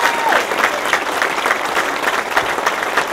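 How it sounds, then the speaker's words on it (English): An audience at a PTSD Foundation of America check presentation breaks into dense, continuous applause that holds steady and close. "a round of applause for people with great courage"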